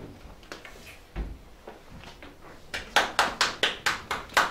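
Sparse, scattered claps at a local council meeting in Poduri after a vote, building into a run of loud, evenly spaced single hand claps near the microphone.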